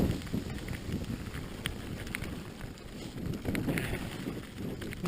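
Strong gusting wind buffeting a rider on an exposed mountain bike descent, a continuous low rumbling roar of wind noise with scattered rattles and knocks.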